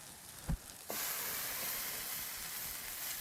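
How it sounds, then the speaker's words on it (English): Red cabbage hits a hot pan and sizzles loudly, a bright steady hiss of sautéing that starts after a couple of brief knocks and carries on alone. "Going to saute this off"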